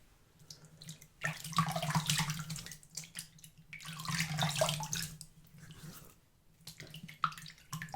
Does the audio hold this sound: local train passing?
no